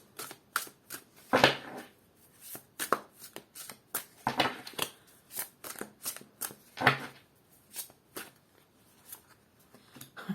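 Quick, irregular rustling riffles and snaps of playing cards being shuffled, close and fairly quiet, with short pauses between bursts.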